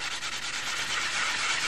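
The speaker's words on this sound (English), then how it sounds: "It doesn't take a whole lot of sanding to get it blended in nice" Close, steady sanding on glass that has dried for two days, a continuous hissing scrape filling the whole stretch at even loudness with no voice.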